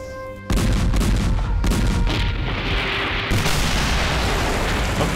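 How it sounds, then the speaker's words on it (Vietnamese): Cannon fire in a Chinese martial arts period drama: after a brief quiet moment, a heavy boom bursts in and rolls on as sustained loud rumbling blasts with a second surge partway through. "Chuẩn bị khai pháo."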